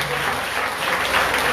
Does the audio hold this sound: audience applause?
yes